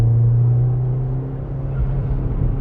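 Car on a track on Goodyear Eagle F1 Supersport R tyres, accelerating hard with a loud, close engine drone that rises in pitch, continuous for a few seconds.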